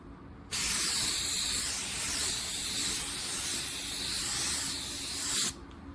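A spray gun hisses steadily as it paints a car bumper, one continuous pass of several seconds that starts and stops sharply, loud and close with no voices over it.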